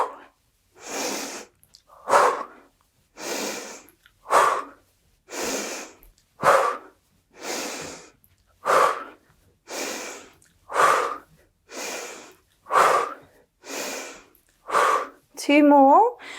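Forceful exhales during yoga power kicks: about thirteen sharp, breathy bursts in a steady rhythm roughly every 1.2 seconds, close and loud, separated by silence, with a brief vocal sound at the very end.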